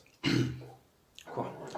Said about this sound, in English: got a tickly cough, sorry